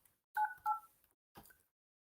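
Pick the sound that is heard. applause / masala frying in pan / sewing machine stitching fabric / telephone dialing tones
telephone dialing tones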